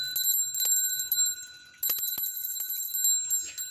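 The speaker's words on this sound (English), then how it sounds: "ring the brass plated stainless steel bell to begin your incantations" A small brass-plated stainless steel altar bell rings with a bright, sustained metallic tone. It is struck several times, and each strike leaves a long shimmering ring.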